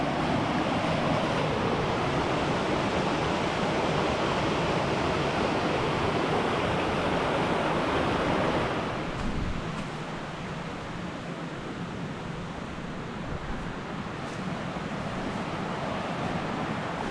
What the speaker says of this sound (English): Good rushing water through here though